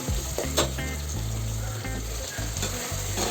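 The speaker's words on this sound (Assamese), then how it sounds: "আৰু পিঁয়াজখিনি ভালদৰে ৰঙা হোৱালৈকে মই গোল্ডেন ব্ৰাউন হোৱালৈকে ভাজি ল'ম।" Sliced onions fry in hot oil in a pan, a close, continuous sizzle with soft clatter of stirring cutting in now and then.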